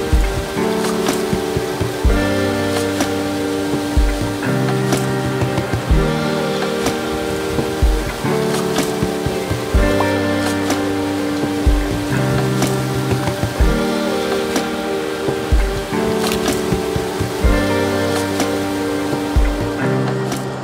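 Stream water tumbling over small drops along a waterfall route in autumn, a steady close rushing and splashing that runs on without pause, with no voices.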